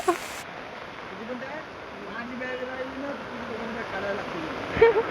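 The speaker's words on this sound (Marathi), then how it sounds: "एवढ्या पावसात आम्ही भिजतोय." Steady hiss of heavy rain falls on a rainy day in Alibag, spread evenly across several seconds, with people talking under it and a short louder splash near the end.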